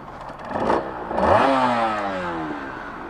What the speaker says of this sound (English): that clutch sounds crazy when it's pulled in